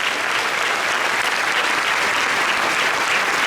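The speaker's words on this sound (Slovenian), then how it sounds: "Dajmo en aplavz še za njih." Dense, steady applause from an outdoor theatre audience at a Slovenian folk ensemble anniversary concert, a thick wash of clapping holding evenly loud from start to finish with no voices standing out.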